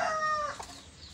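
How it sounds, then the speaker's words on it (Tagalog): Birds calling from inside an alimokon trap, a short clear tonal call with a few wavering notes, close and fairly loud, followed by quiet. "Ito yung mga ibon natin mga dol."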